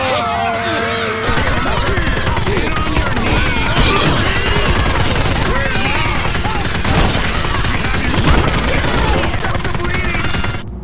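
Weapons firing in the Postal video game, including a submachine gun, with loud, dense bursts of rapid gunfire and crashing impacts mixed with game sounds and shouting voices.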